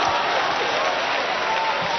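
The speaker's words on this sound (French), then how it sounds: "Merci beaucoup, on les applaudit." An audience at a comedy show claps for performers, a dense continuous wash of applause that holds evenly throughout the short stretch without standout claps or voices.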